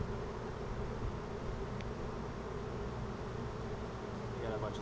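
Honey bees buzz steadily over an open hive frame packed with nectar-filled cells and queen cells, a dense, continuous hum at close range that never lets up across the whole stretch.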